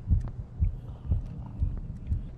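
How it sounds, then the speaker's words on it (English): Slow, steady game heartbeat from Lunch Lady, a horror video game: about five deep, muffled double thumps repeating evenly at moderate volume, with no voices over them. "When the heartbeat is gone, we gotta chill."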